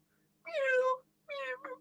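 A domestic cat meows twice in a misty outdoor scene of a fantasy audio drama, two clear, drawn-out cries separated by a short silence, the second ending in a brief extra chirp.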